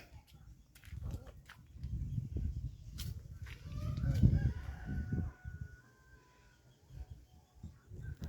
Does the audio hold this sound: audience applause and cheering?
no